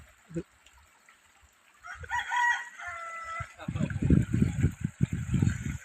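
A rooster crows and clucks nearby against quiet background, followed by a burst of rustling, flapping noise as a chicken chases a butterfly.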